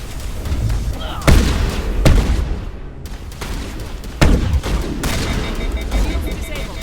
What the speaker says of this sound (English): Okay, yep, shotgun it is.